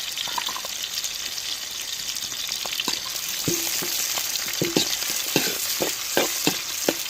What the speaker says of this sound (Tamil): வெங்காயம் வெள்ளைப்பூடு பச்சை மிளகாய் நல்லா எண்ணெயில் வதங்கி வரட்டும்